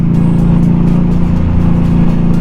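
A 2017 Indian Scout motorcycle cruising in third gear, a loud, steady engine drone with a low pulsing rumble and wind noise, heard close up and without voices.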